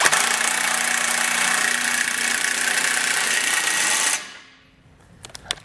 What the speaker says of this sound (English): I'll take my 16 millimeter, tighten this bolt down.